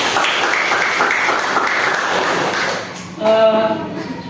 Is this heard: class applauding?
yes